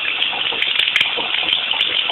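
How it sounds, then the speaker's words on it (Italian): Water gushing steadily while mineral samples are washed, a continuous close, loud hissing rush with a few sharp clicks and splashes. "inizio a lavare i minerali, quindi di nuovo acqua e"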